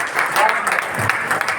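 Audience applause at a provincial meeting in Bhopal, a short burst of dense, fairly loud clapping from the gathered crowd.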